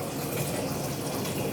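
Water runs from a tap while aquarium water is being changed, a steady gushing splash that fills the short moment evenly and stays close, with no talking.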